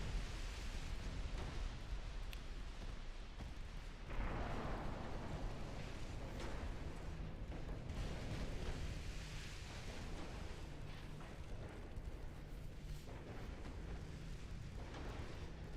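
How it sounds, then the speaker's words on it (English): A torpedo striking a warship in Ultimate Admiral Dreadnoughts, a rumbling explosion swelling over a constant roar of sea and wind, with a heavier burst partway through. "Oh my god, we're about to take another torpedo."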